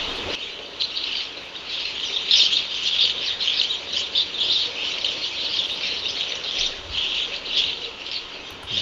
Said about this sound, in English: in a rainforest there are birds flying from afar